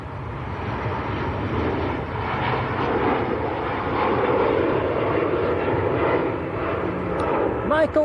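An IndiGo Boeing 787-9 Dreamliner departs Manchester Airport for Mumbai, its jet engines a sustained, moderately loud rumbling roar that holds throughout.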